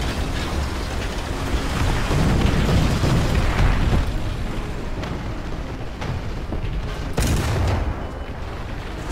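Cannon shots and explosions from War Thunder, a tank combat video game, crash out as dense, rough booms and bursts that roll on continuously, with sharper blasts standing out now and then.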